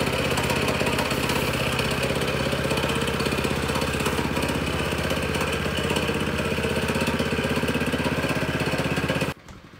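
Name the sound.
roller compactor engine idling to vibrate sand into patio joints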